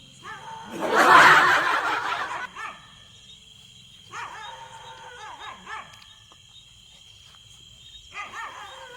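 A dog barks and whimpers at night, with a loud burst of barking early on and then shorter, fainter barks spaced apart and heard alone.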